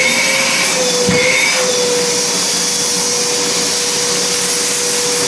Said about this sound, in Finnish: Ja tuosta sitten imuri päälle.